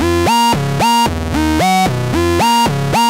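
Modular synth sequence through an STG Soundlabs .COM frequency divider, dropped two octaves into deep, buzzy bass tones that slide between steps in a quick repeating rhythm, loud and alone.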